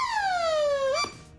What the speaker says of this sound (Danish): den starter sådan lyden af sådan en, det lyder som sådan en politibil fra 80'erne, eller sådan en ambulance